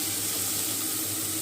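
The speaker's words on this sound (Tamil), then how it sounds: "கொஞ்சமாக தண்ணி சேர்த்து கேரட்டு கொஞ்சமாக வேக வைக்கலாம்" Water pours steadily into a cooking pot of carrots, making a close, continuous hissing splash with a faint sizzle.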